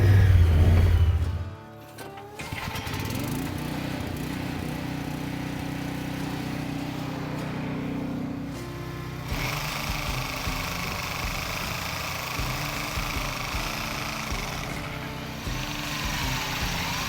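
A Hobart Champ 145 welder generator runs steadily outdoors as a mid-pitched engine drone, loud and continuous after a brief dip near the start, with no speech.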